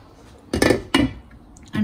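A metal lid clanks onto a pot of carrot halwa in two quick, close, resonant knocks, followed by a softer third clink.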